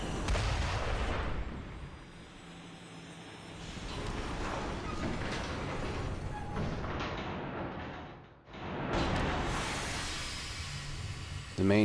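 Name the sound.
Lazarus cannon firing in video game The Last Story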